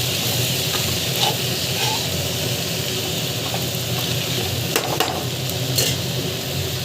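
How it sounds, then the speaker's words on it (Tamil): Onion and tamarind sauté in a pan for mint chutney, a constant sizzling hiss broken by faint stirring scrapes and a few light clicks, with no talking. "வெங்காயம் பார்த்தீங்கன்னா புளி வந்து ஆட் பண்ணிட்டு வதக்கிக்கலாம்."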